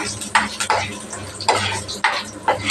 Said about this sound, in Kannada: ಉದ್ದಿನ ಬೇಳೆ ಫ್ರೈ ಮಾಡ್ಕೊಳ್ಳಿ ಸ್ವಲ್ಪ ಬ್ರೌನ್ ಕಲರ್ ಬರೋವರೆಗೂ ಫ್ರೈ ಮಾಡ್ಕೊಳ್ಳಿ